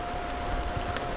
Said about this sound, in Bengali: প্রচুর বৃষ্টি আসছে দর্শক